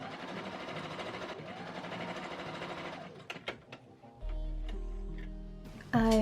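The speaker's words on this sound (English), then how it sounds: "Before we do that, I am hemming the bottom of the sleeve." A sewing machine stitches a hem along the bottom of a costume sleeve, running in a quick rattling burst, pausing with a few clicks, then starting again briefly; the machine is close and fairly quiet.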